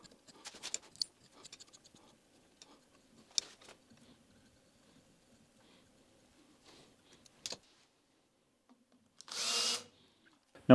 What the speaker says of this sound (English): I just need to drill and tap this hole again.